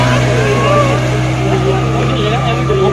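A speedboat ride off a Goa beach, its engine droning steadily and loudly throughout with wind and water rush, while people talk over the motor.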